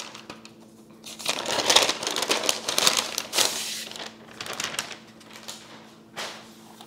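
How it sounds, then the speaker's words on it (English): Plastic wrapping is pulled off an M1 MacBook Pro inside its box, giving close crinkling and crackling bursts that come and go over several seconds. "and we can remove this plastic"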